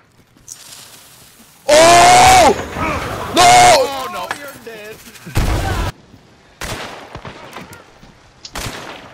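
Gunfire in the video game Hunt: Showdown, loud bursts of shots in two long volleys and then scattered single reports, close and harsh, with players talking over the action.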